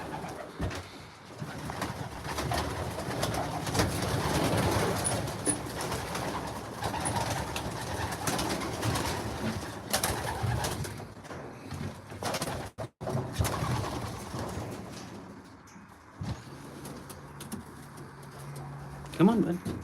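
Racing pigeons coo steadily in a loft before a training release, a soft continuous murmur of many birds close by, with a person speaking intermittently over them and some rustling and handling noises.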